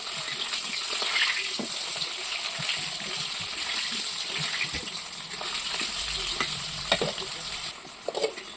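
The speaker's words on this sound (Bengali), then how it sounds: "এই যে লালচে লালচে করে কিন্তু ভাজা হয়ে গেছে, তখন তুলবো আমি, আলুগুলোকে তুলে নিচ্ছি।" Potatoes frying in oil in a kadai until reddish, a continuous close sizzle with intermittent stirring scrapes and a couple of louder knocks near the end.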